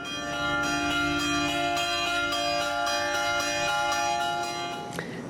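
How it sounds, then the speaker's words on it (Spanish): Church bells ring out over Isnotú, a steady wash of overlapping metallic tones sustained loud and unbroken for several seconds, with no voices. "El sonido de las campanas no han cesado a lo largo del día."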